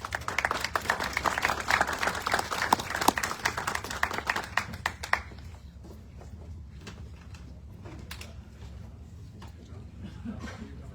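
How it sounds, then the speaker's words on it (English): A round of applause breaks out at a Roxbury town council budget meeting. It is dense and steady for about five seconds, then thins to scattered, fading claps in the room. "Thank you for the round of applause."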